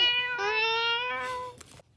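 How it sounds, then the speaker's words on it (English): A very cross cat lets out one long, drawn-out meow, loud and close, with a strained rising-then-falling pitch that trails off into quiet after about a second and a half. "a very cross cat"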